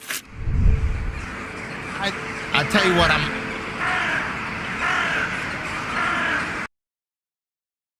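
Birds caw in the Strange Antiquities puzzle game, several crow-like calls rising over a steady ambient bed while someone talks across them.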